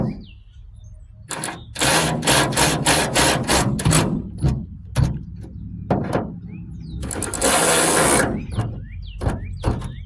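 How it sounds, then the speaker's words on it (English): An electric ratchet tightens wiper transmission mounting nuts on a 2001-05 Kia Rio, buzzing in several loud close bursts separated by short clicks and pauses. "we're going to tighten up our mounting nuts. You can do that with your electric ratchet, just like this."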